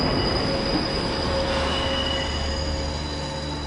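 A train rumbles steadily along the rails, a loud continuous roar with a faint high wheel squeal running through it.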